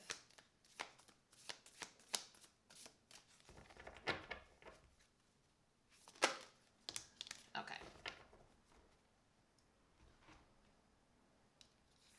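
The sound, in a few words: shuffling tarot cards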